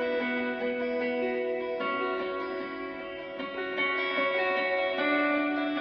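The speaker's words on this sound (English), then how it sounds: "And then we go to the echo sound," Electric guitar on a Gibson Explorer played through an echo effect for a song's verse, ringing chords and picked notes trailing off into repeating delays, steady and fairly loud with no voices.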